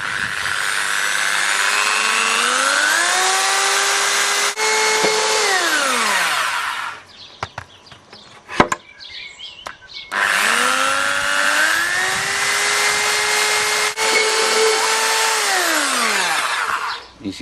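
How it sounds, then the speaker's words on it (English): A power drill with a small wood bit bores into the shell of a 20-inch Carlton bass drum, two long whining runs that rise and settle in pitch, separated by a short pause with clicks and handling noise. "I'm using a really small wooden drill bit"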